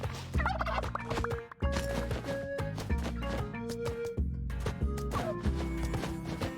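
Turkey gobbles in the video game Spelunky 2 repeat over a continuous musical game soundtrack, the calls loud and frequent throughout with no talking.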